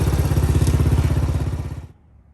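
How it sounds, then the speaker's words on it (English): Honda C102 motorcycle fitted with a Lifan 110cc engine running close by, a loud rhythmic single-cylinder putter that abruptly cuts off and fades into near silence. "we put an engine in it and took it for a little spin."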